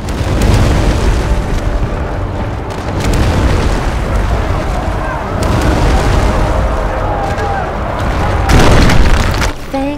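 Artillery fire and explosions from the game Sacred 3, heavy booms rolling through a dense battle din with a loud burst near the end, continuous and close.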